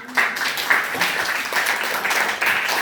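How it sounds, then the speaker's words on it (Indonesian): Pupils in a primary school classroom clap together on cue, a few bursts of brisk clapping in a small room with some voices mixed in. "Oke, tepuk tangan."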